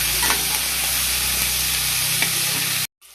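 Onion frying in a pan for egg curry, a loud continuous close sizzle with small crackles that cuts off abruptly near the end.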